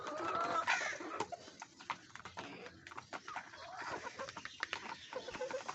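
Backyard hens cluck and murmur continuously while pecking at soaked roti bread, with soft overlapping calls and small pecking taps at close range.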